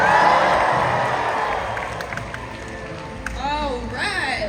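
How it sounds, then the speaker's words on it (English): A stadium crowd at the SeaWorld Orlando Orca Encounter show cheers loudly for an orca, the roar fading gradually before a voice speaks over the thinning noise. "When you see her, give her a big cheer."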